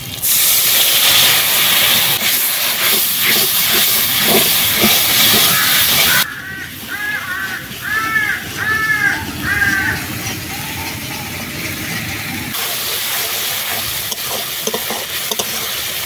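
Chili and turmeric powder splashed with water into hot oil over fried ginger and cumin paste, a loud continuous sizzle and hiss that drops sharply when the water goes in, with bubbling, spluttering pops and stirring scrapes as it cooks down.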